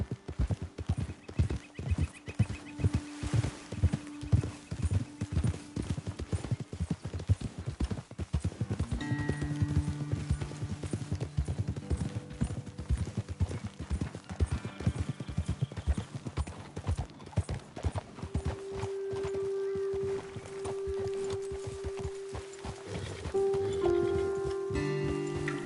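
Horse hooves clip-clop steadily through Red Dead Redemption 2, a rhythmic trotting patter lasting throughout, with an occasional whinny and a sustained tonal game score humming underneath.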